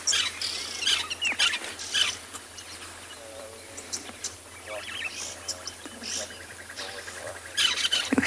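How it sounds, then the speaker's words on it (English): Cape glossy starlings and red-billed buffalo weavers chirp and squawk while feeding in a jackalberry tree on a sunrise safari at Tswalu, a busy mix of near and distant calls with faint rustling. "Here's some Cape glossy starlings, some red-billed buffalo weavers"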